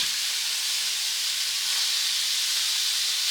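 Thick bacon cooks low and slow, giving off a dense, even sizzling hiss that stays loud and close throughout with no talking.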